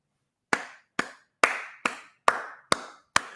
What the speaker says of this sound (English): Give Andrew K a round of applause in here.